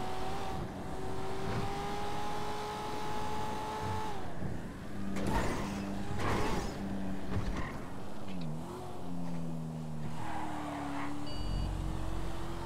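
A car drives through the city of Los Santos in a role-play video game, its engine droning and shifting pitch steadily, with brief revs and changes as it moves along, no talk.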